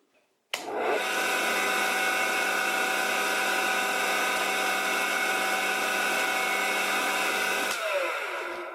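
A homemade wooden wood lathe switches on and runs at top speed, a bit over 2200 RPM, with a loud, steady whirring motor whine and a rattly hum for about seven seconds, then it cuts off abruptly and spins down.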